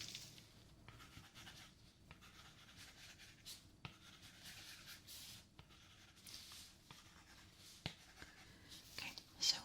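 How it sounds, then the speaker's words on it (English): Pen or pencil writing notes during a detailed ear examination, a faint, close scratching on paper with soft strokes and small pauses in a quiet room. "I'm just going to write some notes down."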